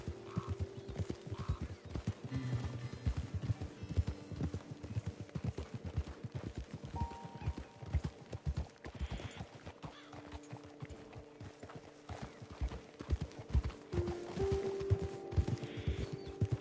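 Horse hooves clip-clop steadily in Red Dead Redemption 2 as riders travel along a trail, with occasional whinnies and faint ambient game sounds around them.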